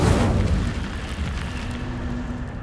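An Incendio fire spell cast in Hogwarts Legacy bursts out loud and booming, then fades into a lingering crackling roar over a couple of seconds.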